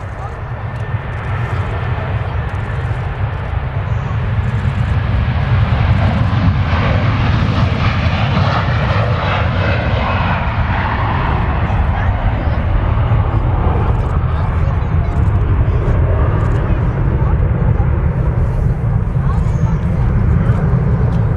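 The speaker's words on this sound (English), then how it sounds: "Dreamliner Dash 10 on the way in as well" A Boeing 787-10 Dreamliner arriving at Manchester Airport produces a steady, loud jet engine roar that swells slightly in the middle and continues without a break.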